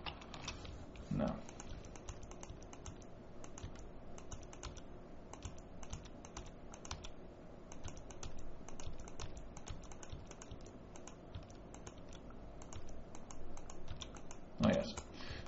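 Rapid computer keyboard typing while building in the Active Worlds game, with steady close key clicks and occasional louder taps over a low background hum.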